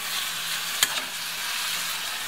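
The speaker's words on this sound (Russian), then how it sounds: "Наш лучочек жарится, еще не готов" Chopped onion and carrot fry in a pan, giving a steady close sizzle with one sharp clink from stirring partway through.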